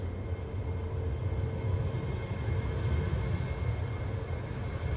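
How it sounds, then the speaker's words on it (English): Ryanair airliner departing Manchester Airport for Oslo, a distant, steady jet roar with a broad low rumble holding at a constant moderate level throughout. "Oh, I got another Ryanair going."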